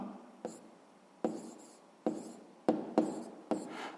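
Pen or chalk strokes writing out a sixth-grade math solution, six short separate scratches spaced unevenly and heard close up with no talking.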